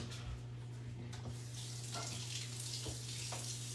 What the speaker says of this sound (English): just run it under warm water if you can't get your vanilla or any kind of extract you have open.